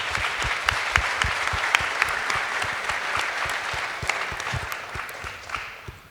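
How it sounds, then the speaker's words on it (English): A conference audience at a Go programming panel breaks into sustained applause, dense overlapping claps close and steady, tapering slightly toward the end. "give all of you a round of applause."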